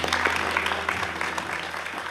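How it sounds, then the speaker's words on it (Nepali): Sustained, steady applause from a live audience for the poet Keki at a Poet Idol Season 2 poetry competition performance, filling the whole stretch at an even level. "केकीको लागि पुनः जोरदार ताली जाओस्"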